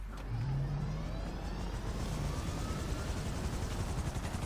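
A helicopter in the GTA 5 video game whirs with a steady rotor and engine drone, a continuous rumbling hum with a slight pitch sweep at the start, heard without any voices.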